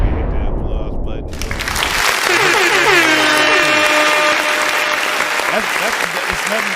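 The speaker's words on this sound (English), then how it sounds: "hit the applause button" An applause sound effect triggered from a button during a live talk show broadcast, a burst of crowd clapping and cheering with horn-like tones layered in, loud and continuous after a brief opening.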